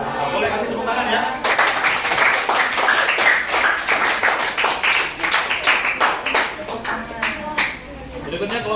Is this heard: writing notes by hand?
no